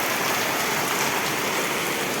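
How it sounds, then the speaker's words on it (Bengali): Heavy rain pours down in a dense, steady hiss, close and loud, with a constant patter on surfaces and no pauses or voices. "অনেক বৃষ্টি।"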